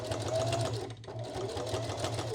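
A sewing machine stitches across a jacket back panel in steady, continuous runs, with a brief pause near the middle before the motor resumes at a close, loud level.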